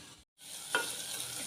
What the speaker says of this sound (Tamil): மூடி வச்சு வதக்கி விட்டால் சீக்கிரம் வெந்துடும் தக்காளி